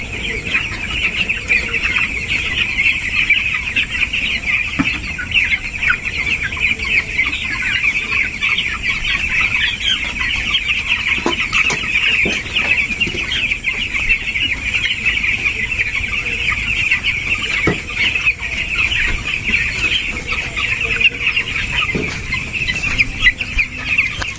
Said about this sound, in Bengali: দৌড়ে দৌড়ে যাইতেছে মুরগিগুলো।